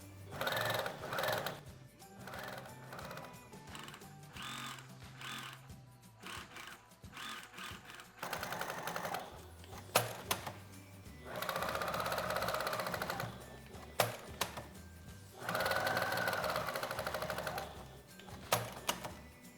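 A sewing machine stitches webbing handles onto a canvas bag in repeated bursts of fast, steady whirring, some short and others lasting several seconds, separated by pauses and handling noises.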